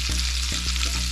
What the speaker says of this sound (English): I'm going to add that butter all around here and just let it melt